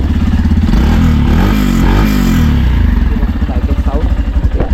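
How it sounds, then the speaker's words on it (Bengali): A used Yamaha FZ-X motorcycle, BS-7 model, runs loud and close. The engine idles with a mechanical clatter, is revved up and down, then settles back into a pulsing idle. "বাইকটা কিন্তু সাউন্ড দেখাচ্ছে আপনাদের"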